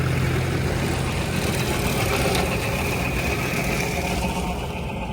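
A Massey tractor engine runs steadily at close range, a continuous low rumble with a busy, even mechanical drone and no break or change in pace.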